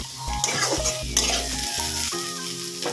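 Carrots and potatoes fry and sizzle in a pan, with steady broadband sizzle, stirring scrapes and a few utensil clinks, while tonal music or background sounds run underneath.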